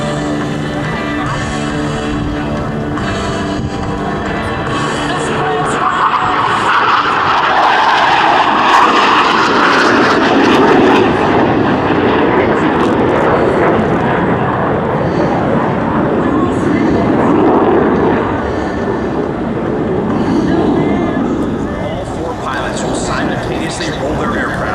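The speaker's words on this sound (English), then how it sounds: "Roll their aircraft 360 degrees. The very precise diamond aileron roll." Blue Angels jets flying a diamond aileron roll at an airshow make a loud, rising and falling jet roar that swells mid-pass and then fades, while an announcer talks over the crowd.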